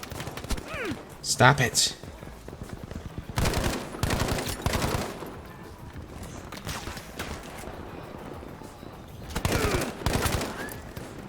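Short bursts from a Breda PG 1935 rifle in Battlefield 5 crack out in three separate clusters, loud and close, with a voice talking in between.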